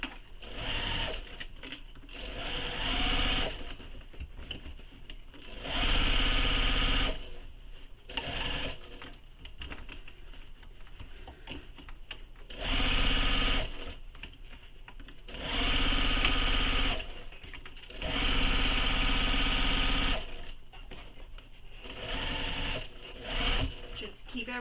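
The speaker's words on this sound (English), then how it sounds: "So I'm just sewing all the way around" A sewing machine stitches all the way around a commuter tote bag in repeated bursts of running, each separated by quieter handling and fabric shuffling, fairly close and loud.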